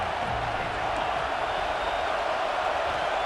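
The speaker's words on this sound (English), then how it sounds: "This crowd bringing the energy and noise early." Dense, distant video game stadium crowd roar at a college football game in EA Sports College Football 26 forms a constant wash of noise, steady and unbroken throughout, with a faint swell of cheering.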